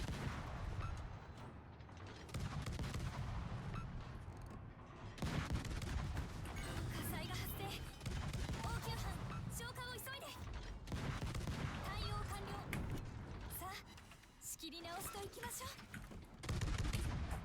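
Ship-gun salvos from an Akizuki destroyer in a World of Warships naval battle, a dense, continuous barrage of booming shots and rapid cannon fire with swelling explosions, loud and sustained throughout.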